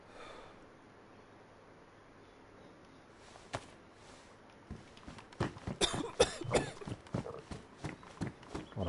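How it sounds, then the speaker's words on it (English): A player character coughs repeatedly in the survival video game DayZ on PS5, with quiet ambience at first, then a cluster of rough, close coughs and shuffling movement sounds. "I wish we'd stop fucking coughing."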